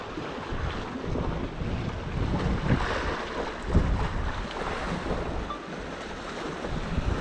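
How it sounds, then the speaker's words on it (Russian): Waves wash against the lake shore near Priozersk, Kazakhstan, with wind buffeting the microphone, a steady rushing surf swelling in a couple of louder surges. "Волны бьются о берег морской"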